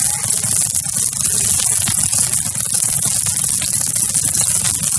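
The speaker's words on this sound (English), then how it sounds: "That's corn growing." Corn growing in a field, heard as a steady, dense crackling rustle with faint ticks and pops throughout, close and continuous with no pauses.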